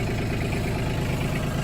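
The diesel engine of a John Deere Gator 855 utility vehicle idles on a farm, a steady low rumbling chug, close and even throughout with no voices.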